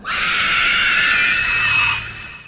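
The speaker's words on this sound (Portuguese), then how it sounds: "nos filmes basta o Frodo usar o precioso que a gente escuta aquele grito dos Nazgûl" Nazgûl scream from the Lord of the Rings films: one loud, piercing, shrieking cry that holds for about two seconds and then fades, alone with no talk.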